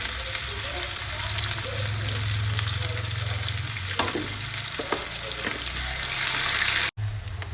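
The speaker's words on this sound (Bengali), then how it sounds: "পেঁয়াজটা লাল লাল করে ভাজা হয়ে গেছে" Onions frying in oil in a pan for a Bengali fish curry with aubergine and potato, with nigella seeds already added, a steady close sizzle running throughout, a few faint stirring clicks, and a brief cut near the end.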